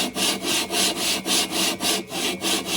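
A part is turned back and forth against the cylinders of a 1776cc engine to lap the mating surface, producing close, loud rhythmic scraping strokes, about eight evenly spaced rubs in under three seconds.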